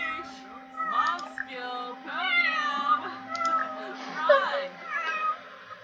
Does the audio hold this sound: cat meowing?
yes